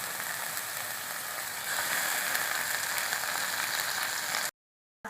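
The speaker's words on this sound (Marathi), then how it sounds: "आता हे कांदा छान परतून घ्यायचा" Chopped onion and tomato fry in a pan for a sprouted moth bean usal, giving a steady, close sizzle that swells slightly partway through before cutting off abruptly near the end.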